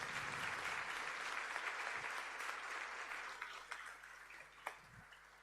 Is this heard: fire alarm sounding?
no